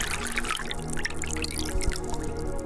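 Tap water running in a video game: a steady, close pour with a busy, splashy dripping texture throughout, and no voices.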